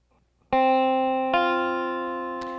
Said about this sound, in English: we're going to strum those bottom two strings